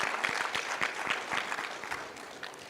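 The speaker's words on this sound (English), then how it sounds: "Please give her a rousing round of applause." An audience claps for a speaker's introduction at the UN Global Supply Chain Forum, a dense, even patter of many hands held steady for a few seconds with no voices over it.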